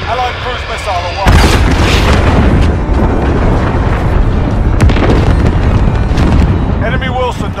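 Cruise missile strike explosions in Call of Duty Warzone: a heavy, sustained roar of booming blasts and rumbling fire kicks in loudly after a quieter opening and persists throughout, with game voice chatter faintly audible beneath.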